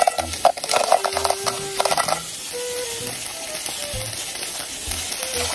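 Chopped onion, garlic and ginger sauté in a hot pot at a seaside cookout, hissing steadily under a burst of clattering stirring strokes at the start, then settling into an even sizzle.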